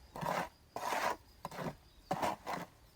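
A trowel works sand into lime render inside a bucket, making gritty scraping strokes, about five rhythmic rasps, close and moderately loud with no talking.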